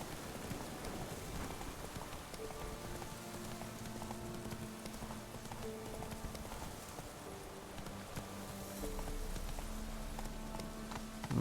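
Horse hooves clip-clop steadily in The Witcher 3, a continuous patter that blends with rain-like hiss and sustained musical tones, with no talking.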